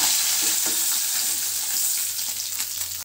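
Fish fry in hot oil in a pan, giving a loud, dense, steady sizzle with a few faint clinks, close and uninterrupted by speech.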